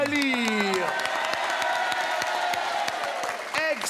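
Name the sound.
audience applauding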